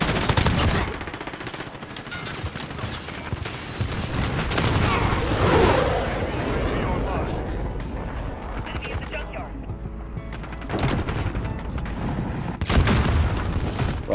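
Loud Call of Duty Modern Warfare firefight in the Shoot House map, with repeated gunshots, shotgun blasts and booming explosions from rocket launchers, dense and continuous with voices underneath.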